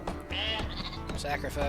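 Sheep bleating in the Northgard strategy game, a few short wavering bleats close by, with a voice speaking over them.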